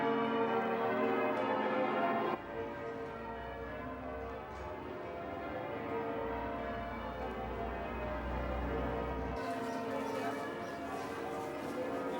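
York Minster's bells peal continuously in a dense, overlapping wash of tolling tones, loud and reverberant, with no pause over the whole stretch.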